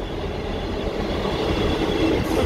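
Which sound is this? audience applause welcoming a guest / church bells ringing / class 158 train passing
class 158 train passing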